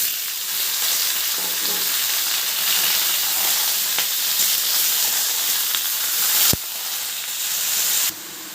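Bottle gourd goes into a pan of frying onions, setting off a steady, loud sizzle and hiss that runs unbroken, with a sharp clack near the end and a sudden drop in level just after.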